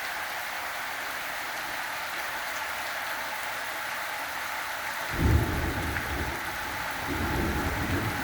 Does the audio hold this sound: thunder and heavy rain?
yes